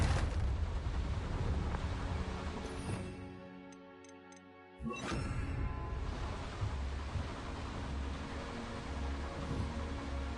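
Hogwarts Legacy's Confringo fire spell blast erupts abruptly after a brief lull with faint ticking, returning to a sustained, dense roar of noise that continues to the end.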